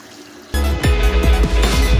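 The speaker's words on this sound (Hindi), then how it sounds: "अब हम इसे गर्म पानी से निकालेंगे और इसके ऊपर ठंडा पानी बहाएंगे।" Cold water pours over freshly boiled pasta to rinse it, starting abruptly as a steady splashing stream with repeated sloshing bursts, close and fairly loud.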